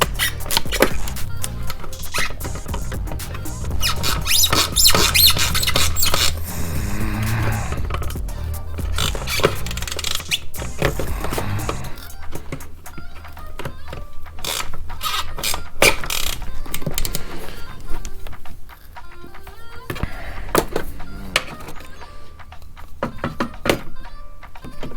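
Metal fastener on a Can-Am Ryker OEM radiator protector being tightened with needle nose pliers, giving close, repeated clicks, thunks and ratcheting scrapes over a steady low hum, busiest in the first half.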